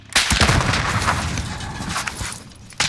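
A sustained barrage of explosive-round gunfire in a video game, dense and loud, rumbling continuously with sharp cracks at the start and end.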